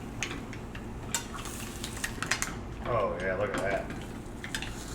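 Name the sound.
mussels frying and cooking down in a pan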